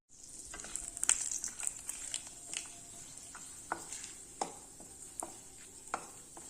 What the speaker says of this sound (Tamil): ரெண்டு ஏலக்காய் ரெண்டு கிராம்பு பட்டை ரெண்டு துண்டு ஒரு ஸ்டார் அனீஸ் இது எல்லாத்தையும் நல்ல மிதமான தீயில் இது வந்து நல்லா வறுபடட்டும்